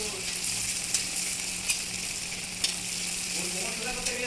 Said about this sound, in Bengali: এইভাবে ড্রাই চিকেনটা নাড়তে হবে